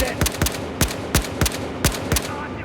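Single-shot gunfire from a scoped rifle in the video game Battlefield Hardline: eight sharp, loud shots fired at a steady rhythm, roughly every third of a second.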